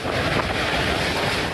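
Hurricane Irma's winds in Florida roar as a loud, constant gale battering the microphone, with a dense rushing wash that suggests surging sea and surf, and no voices.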